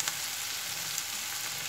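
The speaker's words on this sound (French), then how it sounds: "les mettre dans la poêle avec les échalotes" Thinly sliced leeks sizzle gently with shallots in olive oil in a frying pan, a steady close hiss with faint crackles and no voices.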